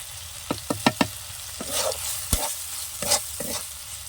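Snail meat stir-fried with potato and spices in a pan, a quick run of sharp spoon knocks followed by scraping stirs over a low sizzle, close and moderately quiet, no voices.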